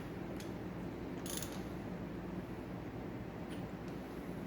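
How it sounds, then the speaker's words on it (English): A wrench tightens the bolts that hold a milling vise down on a milling machine table. A few faint mechanical clicks and a brief clatter sit over a steady low workshop hum. "And for one of the bolts, tighten it a little further."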